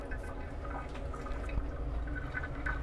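Water poured onto a batch of clown puke, a continuous trickling and dripping pour with small wet splashes running steadily throughout, close and moderately loud, no voices.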